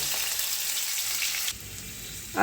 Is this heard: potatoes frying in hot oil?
yes